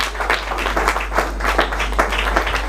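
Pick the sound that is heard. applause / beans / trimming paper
applause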